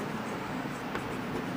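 A pen or marker writes on a board during a maths lesson, making a continuous, close scratching rub with no talking.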